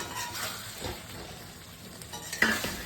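Duck eggs and potatoes are added to hot spices in a pan, making a soft, brief sizzle under stirring, with a small clink of a utensil against the pan near the end.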